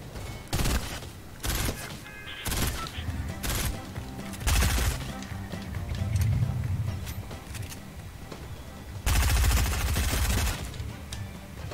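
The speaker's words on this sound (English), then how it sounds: "I'm just shooting people for some reason." Gunfire in the video game Fortnite: repeated bursts of loud automatic and single shots in uneven clusters, broken by quieter gaps with rumbling movement and mechanical clatter in between.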